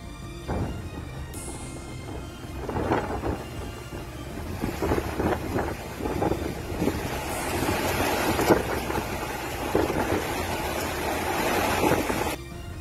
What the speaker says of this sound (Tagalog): makikita at maririnig ang malalakas na hampas ng alon sa baybayin